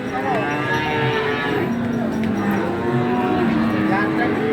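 Cattle low repeatedly at a busy livestock market in Tuban, with long, drawn-out moos over a constant crowd murmur and background chatter.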